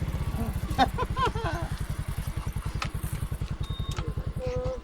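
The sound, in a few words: motorcycle engine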